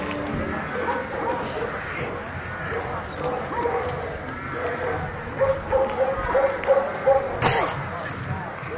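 Šarplaninac sheepdogs bark and yip at a specialty dog show near Smederevska Palanka, with scattered barks rising toward the end amid crowd chatter and an announcer's voice.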